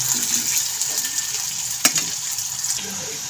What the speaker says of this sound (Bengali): পেঁয়াজটাকে আমি এখানে আর কি কালো জিরে আর কাঁচা লঙ্কার সাথে খুব হালকা করে এটাকে এখন ভেজে নেব